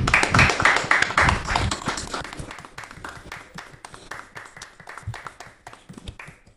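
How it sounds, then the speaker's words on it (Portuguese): Clapping from a small group during the Conmebol Libertadores round-of-16 draw broadcast, loud and dense at first, then thinning to a few scattered claps that trail off. "a gente só tem uma coisa a fazer, aplaudir"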